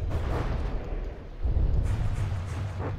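Artillery volleys firing between warships in the naval battle game From the Depths: a continuous low rumbling barrage of deep booms and blasts, swelling louder around halfway, with scattered crackling impacts.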